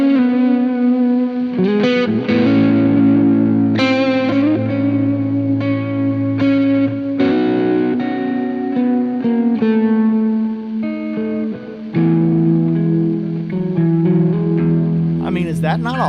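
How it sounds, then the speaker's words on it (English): Guitar played through a delay echo effect, sustained distorted chords and notes repeating and trailing off in echoes, loud and continuous, with some talking mixed in. "I think that delay sounds really good."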